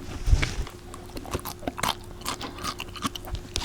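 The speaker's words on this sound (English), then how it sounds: "Ooh, it's got crunch." Close, crisp bites into a crunchy homemade pressure-cooker dill pickle, with a sharp crunch followed by a few quieter chewing crackles.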